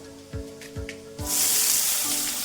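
Garlic and onion for a spinach and potato sabji sizzle in a hot pan, a few clinks of a utensil followed by a loud, steady frying hiss nearby.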